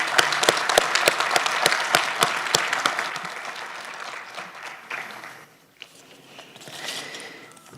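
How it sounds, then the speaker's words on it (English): Graduation ceremony audience applauding staff as they stand: loud, brisk clapping from a crowd for about five seconds, then tapering off into quieter scattered claps and room noise. "Let's give them a round of applause."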